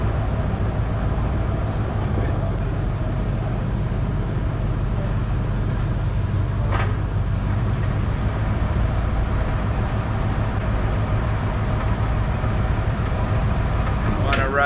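A 1995 Ford E-150 club van with about 350,000 miles runs in reverse during a transmission flush, giving a steady, loud mechanical drone with a spinning wheel whirring throughout, with no breaks.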